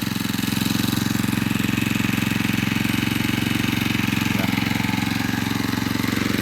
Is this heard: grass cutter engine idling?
yes